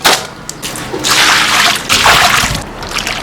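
Kelp is rinsed by hand in clean water, with close splashing and sloshing that comes in bursts as the seaweed is swished and rubbed.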